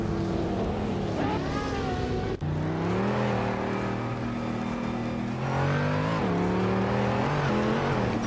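Race cars in a racing video game, engines droning and revving with rising and falling pitch as gears shift, a steady loud roar with passing cars layered together.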